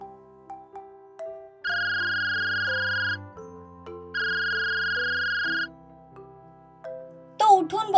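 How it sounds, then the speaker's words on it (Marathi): An electronic ringtone plays a melodic tune, with two long steady sustained tones in the middle, followed by a brief burst of a voice at the end. "तितक्यात त्याचा फोन रिंग झाला"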